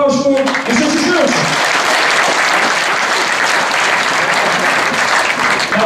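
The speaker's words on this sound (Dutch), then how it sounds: "Applaus voor de succes!" Loud, dense applause from an audience at a sports awards gala fills the hall for the full stretch, with a voice briefly over the first moment before the clapping takes over.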